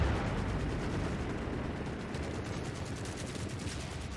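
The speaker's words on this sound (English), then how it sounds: "Are the tanks fighting each other now?" Dense, continuous battlefield gunfire and rumbling blasts from tanks fighting each other in The Forever Winter, a steady wall of shots and explosions with no talking.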